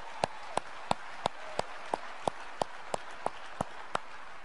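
A lone person claps slowly and evenly, about a dozen distinct claps spaced roughly a third of a second apart, moderately close and fairly quiet, with no crowd joining in.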